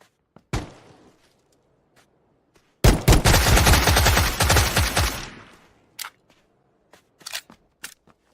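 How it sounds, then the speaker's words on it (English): Gunfire from the battle royale game PUBG: a single sharp shot, then a dense, loud burst of rapid automatic fire lasting around two seconds, followed by scattered isolated shots at varying distances. "Shooting the pistol."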